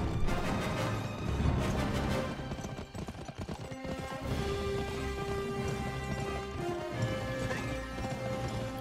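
Galloping horse hooves clop steadily over a dense soundtrack of music and effects in the video game Gun, loud and continuous throughout.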